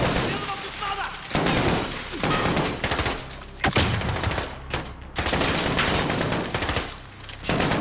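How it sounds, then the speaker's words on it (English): Rapid bursts of automatic gunfire from a Call of Duty campaign, loud and dense, with sustained volleys separated by brief gaps. "What are you shooting at?"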